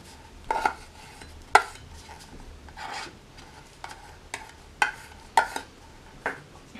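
A palette knife scrapes paint off a palette into a cup in several short, separate strokes, each a brief rasping scrape with faint clinks, close and isolated over a quiet background.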